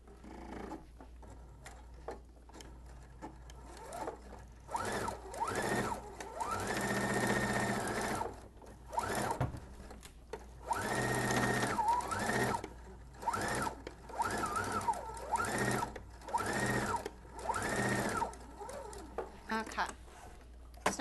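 A sewing machine at stitch length 3.5 stitches a long boy's shirt into a dress, running in several steady bursts of whirring with short pauses between, loud and close.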